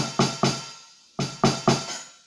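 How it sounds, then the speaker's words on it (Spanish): A Medeli DD309 electronic drum kit hi-hat sounds as its pedal is released: five bright open hi-hat strikes with washy decays, grouped in two close bursts, near and clear with no voices. "El pedal 1 maneja el charles de aquí"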